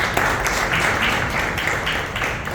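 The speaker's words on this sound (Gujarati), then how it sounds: "યોગેશ માટે પણ એક તાળી દઈએ આપણે" An audience at a book fair in Kandivali claps for Yogesh, a continuous round of applause with dense, fairly close patter that holds steady throughout.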